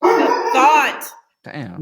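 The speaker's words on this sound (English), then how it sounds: "That's a big ass dog." A big dog barks in rapid, loud bursts mixed with people talking over it, then breaks off briefly before voices resume.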